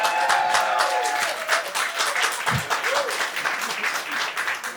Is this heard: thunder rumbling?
no